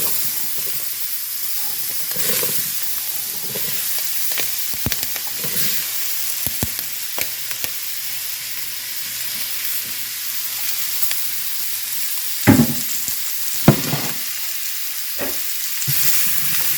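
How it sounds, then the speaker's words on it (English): Vegetables sizzle and hiss in hot oil in a pan, a steady frying crackle with occasional scraping stirs and clinks of a utensil, close and continuous. "These we will saute until they are, I like them tender"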